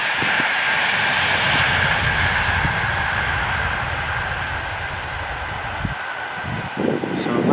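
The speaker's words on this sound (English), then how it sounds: "Do have trains whizzing past." A train whizzing past a woodland cemetery, a steady loud rushing roar with rumble that holds throughout and eases slightly toward the end, a voice briefly heard over it.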